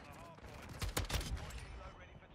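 An SO-14 rifle in Modern Warfare 2 fires a short burst of sharp, loud shots packed closely together in the middle of a brief stretch of background game noise.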